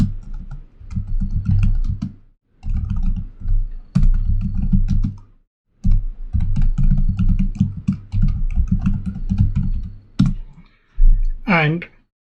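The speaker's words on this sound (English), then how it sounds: "then you can type in your username" Computer keyboard typing git config commands while setting up Git, with bursts of clicking keystrokes close by, broken by short pauses, and a person talking over much of it.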